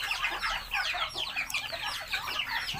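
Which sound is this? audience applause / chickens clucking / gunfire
chickens clucking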